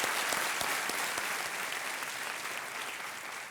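Studio audience on a Hindi quiz show applauds to welcome a guest, a steady wash of clapping holding for the whole stretch and fading only slightly toward the end, with no voices over it.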